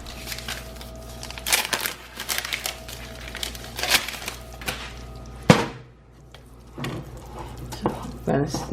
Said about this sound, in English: Just keep stirring it until it's all melty